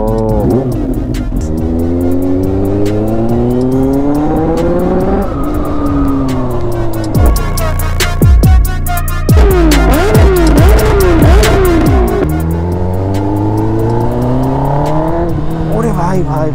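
A Kawasaki Ninja H2 motorcycle on a first ride, its engine revved hard again and again. The pitch climbs in loud rising sweeps, with a burst of quick blips in the middle, close and dominant throughout.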